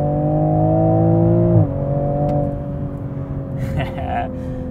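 A 2021 Toyota Supra's turbocharged engine in sport mode hums at a steady drone with a sudden drop in pitch partway through, heard from inside the car, loud and continuous.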